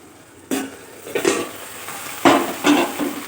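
A lid comes off a pan of okra cooking on low heat, then the okra is stirred with a utensil against the pan in several separate scraping bursts over a quiet background, with no voices.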